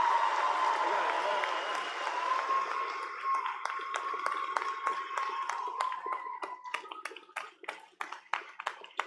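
An audience at a Cape Cod Community College commencement ceremony applauds, loud scattered clapping at first that thins into sparse individual claps toward the end.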